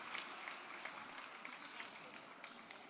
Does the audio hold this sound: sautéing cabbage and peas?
no